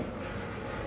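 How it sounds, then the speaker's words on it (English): Airplane passing overhead, heard from inside a garage: a steady, broad low roar that holds through the whole second without fading, fairly quiet and with no voices over it. "A plane just went by."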